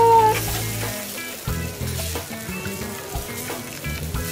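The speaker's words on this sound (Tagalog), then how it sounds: "Nag-ihaw na kami ng uling, mga kapuso." Seafood grilling over glowing charcoal in Batangas, a steady crackling sizzle with soft pops running throughout at close range.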